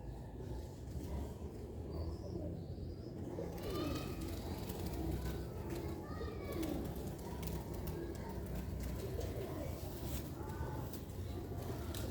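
Several pigeons coo softly in repeated low, rolling phrases, with a steady background hum and some faint clatter.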